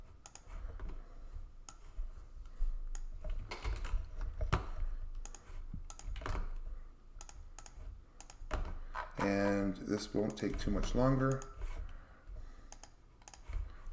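Rapid clicking keystrokes on a computer keyboard, close and continuous, with irregular bursts of typing; someone speaks briefly partway through.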